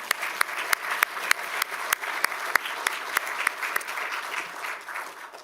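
Attendees at an educational recognition awards ceremony applaud an honoree, a sustained round of clapping with a few loud, sharp individual claps standing out near the front, gently tapering toward the end.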